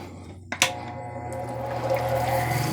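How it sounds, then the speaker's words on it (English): Water runs steadily onto a lapidary grinding wheel while streaky quartz is worked, a soft continuous hiss after a couple of sharp knocks near the start. "Yep, water's going."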